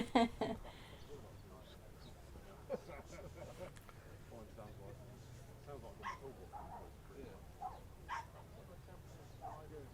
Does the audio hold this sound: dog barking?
yes